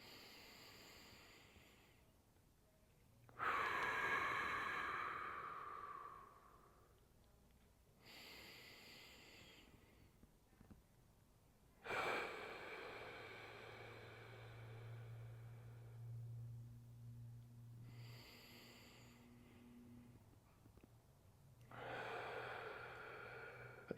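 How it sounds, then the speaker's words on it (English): Deep, slow breaths during a stretching exercise for a tweaked back: several long, hissing inhales and exhales spaced a few seconds apart, close and fairly soft, with a faint low hum between them. "take 5 deep breaths"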